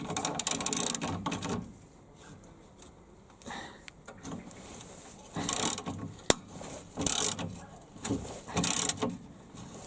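A ratchet clicks in short, uneven bursts while tightening a stubborn bolt on a Chevy Blazer brush guard, with one sharp metallic snap in the middle, between quieter pauses.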